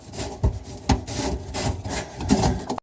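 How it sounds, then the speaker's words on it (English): A kitchen sink drain nut turned loose by hand gives close, gritty rubbing and scraping, broken by a few sharper clicks and knocks over a few seconds. "once you get it past a certain point, you can usually just unscrew it with your hand."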